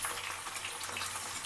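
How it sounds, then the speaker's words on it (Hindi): Jackfruit pieces frying in hot oil give a steady, even crackling sizzle, close and moderately loud, with no pauses and no voices. "अलट पलट करते हुए मैं फ्राई कर लेती हूँ"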